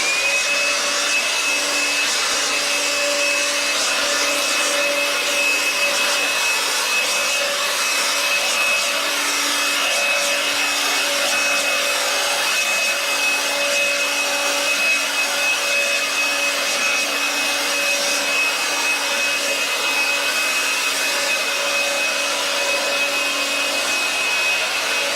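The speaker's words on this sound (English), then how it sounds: "Now what I do, I just give it a blow just to make sure there is no dust on the floor" A powered blower whines steadily for a long stretch, clearing dust from a swimming pool floor before tiling, with a constant high-pitched motor tone and airy rush, no voices.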